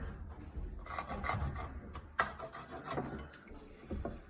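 A pencil scratches lines onto wood framing lumber along a speed square while a wall with a door is laid out, giving a few short, close rubbing strokes with light knocks and no talking.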